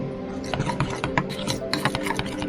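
A salmon marinade of salt, pepper and sugar is stirred close up in a bowl, making steady rubbing and scraping sounds with small irregular clicks and no voice.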